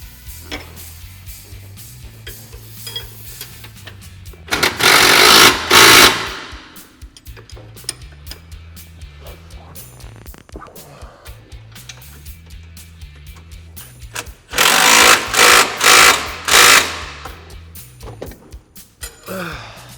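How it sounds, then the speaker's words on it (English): A wrench tightens the nuts on a SuperATV brake lock fitted to a Can-Am Maverick X3, heard as two short, loud bursts of rapid ratcheting clicks over a low steady hum. "hold our brake lock in place, put a wrench on our nuts, and fully tighten our hardware."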